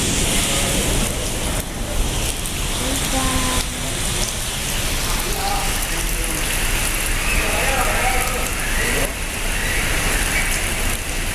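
Rain falls steadily under an overcast, thundery sky, a broad wash of hiss mixed with passing traffic and engine rumble, while a person talks intermittently nearby.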